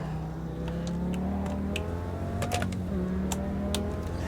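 A V10 engine in a racing video game revs and shifts through the gears, its steady drone rising and falling in pitch, with sharp clicks scattered over it and no talk.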